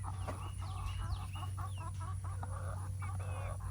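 Egg-laying hens cluck steadily in a farmyard run, a string of close, overlapping clucks and soft calls over a constant low hum.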